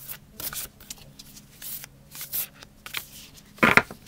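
Tarot cards shuffled by hand in short papery riffles and rustles, several separate bursts with pauses between and a sharper snap near the end, close and alone without talk.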